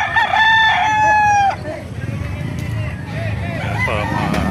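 A rooster crows once, loud and close, at a busy chicken market in Bocaue, with a crowd murmuring and people talking in the background.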